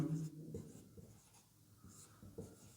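Chalk or marker writing on a board in a chemistry lesson, a series of short scratchy strokes in uneven rhythm, quiet and close, with no talk.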